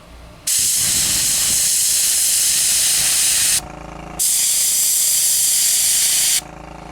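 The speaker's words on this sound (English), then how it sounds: "I've got a 3mm needle in my airbrush right now" An airbrush with a 3mm needle sprays paint onto model railway track, two long steady hissing bursts of about three and two seconds, loud and close with a short pause between.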